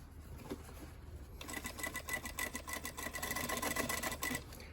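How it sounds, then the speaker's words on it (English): Sewing machine stitching a shortened jeans hem from the inside, running in a steady fast whirring burst for most of the clip after a quiet start, close and clear with no talk. "you are sewing from the inside"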